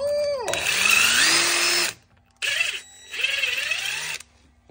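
An impact wrench spins a Hub Buddy hub cleaning tool fitted over a wheel stud, loud whirring grinding bursts with a pitch that rises and falls, stopping and restarting with brief silent gaps between runs.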